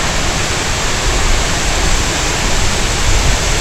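The Ukshi Ranpat waterfall beside the Konkan railway pours in a loud, dense, unbroken roar of falling water, close and continuous, with no voices.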